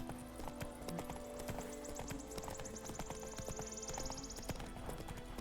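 Horse galloping in the video game Witcher 3, a rapid, rhythmic clip-clop of hooves close by, steady throughout amid ambient game sounds, with a faint tonal whine partway through.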